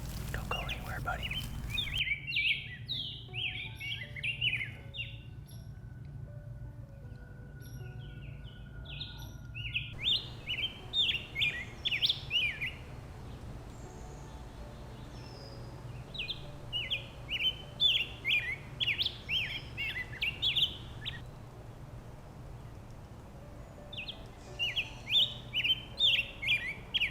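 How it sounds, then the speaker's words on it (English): A rose-breasted grosbeak sings in the woods in repeated bursts of bright warbling phrases, separated by short pauses, fairly close, over a low steady background hum. "we just had a rose-breasted grosbeak land"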